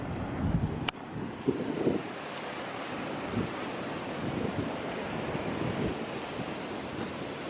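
Ocean waves wash steadily onto a beach while wind buffets the microphone, a constant broadband roar with occasional gusty thumps and a sharp click near the start.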